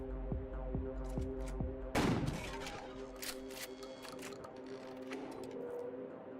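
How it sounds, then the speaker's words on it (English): Gunfire in the Final Sentence video game: a rhythmic series of sharp shots followed by a louder blast, set against a steady mechanical hum, with no talking. "Gunshot. Gunshot."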